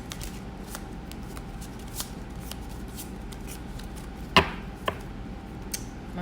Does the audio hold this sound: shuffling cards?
yes